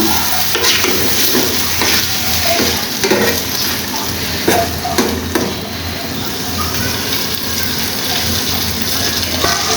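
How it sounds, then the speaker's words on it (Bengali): A torn bay leaf sizzles in a hot pan, with a steady loud frying crackle and occasional scraping stir clicks throughout. "এখানে আমি একটা তেজপাতা দিয়ে দিচ্ছি ছোট করে ছিঁড়ে একটু ফ্লেভারের জন্য"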